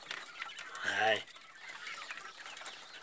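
A tame quail gives a short, loud call close by, inside a cage or coop with a perch, over quiet background noise. A person says a brief word in the clip.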